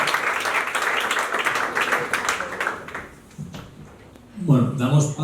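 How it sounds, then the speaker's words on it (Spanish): At a quarterly business event, the audience claps for two speakers in a loud, dense burst lasting about three seconds. The clapping quickly tapers off, and a voice then begins talking. "Pues un fuerte aplauso para Jaime,"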